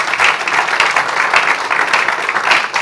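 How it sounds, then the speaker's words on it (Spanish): A church congregation applauding, dense sustained clapping filling the room with no break. "Yo a usted le volviera a dar otro aplauso a Cristo"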